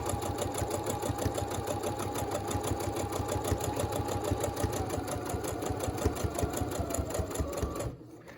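A sewing machine stitches a reusable N95-style fabric mask, its needle hammering in a fast, even, continuous rhythm up close, then stopping abruptly near the end.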